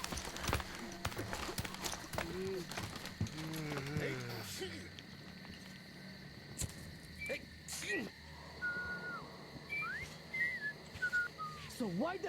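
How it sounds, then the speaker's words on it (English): Whistling from the video game Metro Exodus, with short whistled notes over a busy game soundscape of hoofbeat-like clops and ambient noise, while people talk. "you should know better than to whistle at night"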